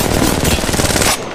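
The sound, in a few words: gunshot from the video game Apex Legends Mobile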